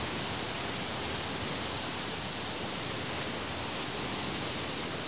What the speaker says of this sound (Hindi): पानी देखिए आप इस तरह बह रहा, बड़ी नहर है ये।